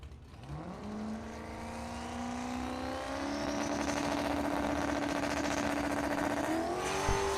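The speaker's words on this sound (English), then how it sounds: "Dustin Greenhow, 2002 turbocharged Chevrolet Camaro from Roscoe, Illinois" A 2002 turbocharged Chevrolet Camaro launches at a dragstrip, its engine climbing steadily in pitch through the gears into a loud sustained wail that holds for several seconds before a sharp shift near the end, with no talk.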